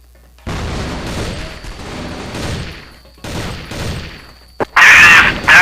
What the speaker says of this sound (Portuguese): Ó a bomba!